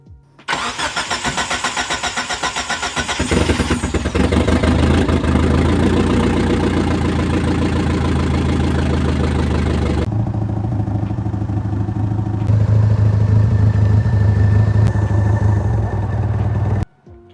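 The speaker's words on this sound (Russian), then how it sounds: "И теперь долгожданный запуск." A Mazda 323F engine, freshly rebuilt, cranks and catches, roars loudly as it revs, then settles into a steady, rumbling idle up close.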